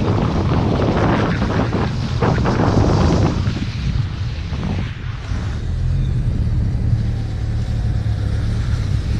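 An Audi 100 quattro drives over snow, its engine a loud, steady close rumble mixed with heavy wind buffeting the microphone throughout.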